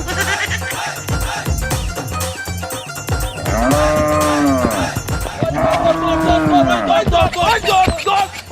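A native desi cow lets out two long, drawn-out moos amid busy, close surroundings with people talking and shouting.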